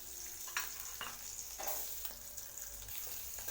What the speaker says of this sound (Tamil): பெருங்காயத்தூள் போட்டு நல்லா எண்ணெயில் பொரிஞ்சிருச்சு